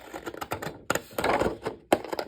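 Crisp snipping and crunching of scissors cutting through paper, several short bursts close up with brief pauses between cuts.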